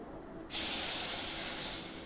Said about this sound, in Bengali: কড়াইটা আমার গরম হয়ে গেছে এবার আমি সামান্য জল দিয়ে দেবো